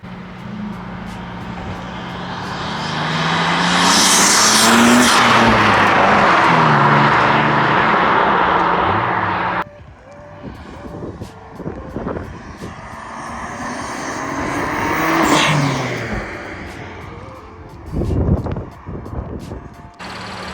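A BMW F8X fitted with an RK Titanium front mount intake and chargepipe accelerates hard twice, the engine roaring up loudly and falling away with intake whoosh, heard from inside the car with a brief voice.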